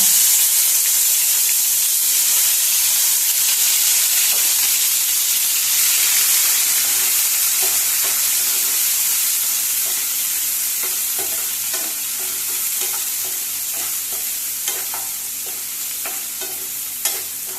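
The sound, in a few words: onions frying in a pan with bay leaf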